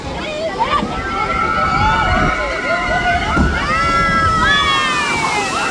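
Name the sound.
water splashing on a theme park water ride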